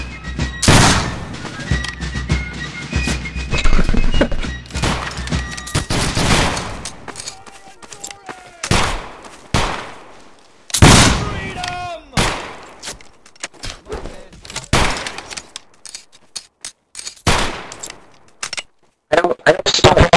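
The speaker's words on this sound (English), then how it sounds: "Muskets." Musket gunfire in the video game BattleGrounds 2, sharp booming shots and scattered volleys spread irregularly across the scene, some near and loud, others fainter, with brief voices in the mix.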